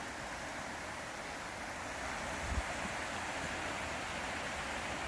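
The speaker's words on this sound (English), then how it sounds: "So look at the North Kill Creek" North Kill Creek runs well below a wooded hilltop lookout, heard from above as a steady, even broadband rush of flowing water with no voices.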